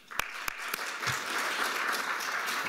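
An audience claps to welcome Harold Pollack before a talk on Medicaid policy, opening with a few scattered claps that quickly swell into steady, full applause across a lecture hall.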